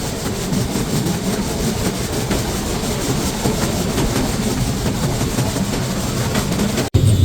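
The Chitra Express passenger train runs between Khulna and Dhaka, a loud, continuous, rumbling roar with steady rattling wheel clatter, heard from inside the carriage, with a brief dropout near the end.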